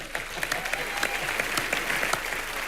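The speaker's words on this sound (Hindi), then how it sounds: "इस बात के लिए तालियां होनी चाहिए।" A studio audience on the Indian TV comedy show Comedy Nights with Kapil claps loudly, a brisk burst of applause that carries on steadily throughout.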